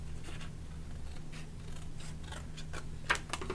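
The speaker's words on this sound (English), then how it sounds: "Then I'm going to cut this one out." Scissors cutting paper for a Dollar Tree notepad craft, a series of soft, close snips and slicing strokes with a sharper closing snip near the end, no voices.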